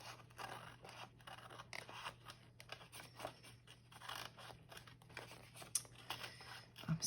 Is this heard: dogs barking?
no